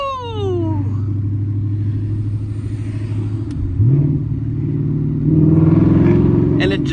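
A Ford Mustang GT with a manual gearbox bellows as it accelerates, a deep, loud engine drone that rises in pitch with a gear change in the middle and surges again near the end.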